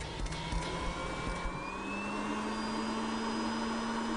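The built-in vacuum cleaner of a Honda Odyssey Touring Elite minivan runs with a steady whirring motor drone, and its pitch rises as it spins up, moderately loud and alone.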